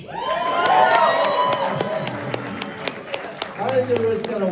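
Panel audience at a horror convention cheering, whooping and clapping loudly throughout, with scattered sharp claps over a dense crowd roar and some voices.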